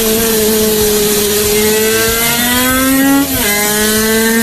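A 50cc 1950s racing motorcycle engine revving to 20,000 rpm screams at a sustained pitch, climbing briefly before a quick gear shift drops the note and it winds up again.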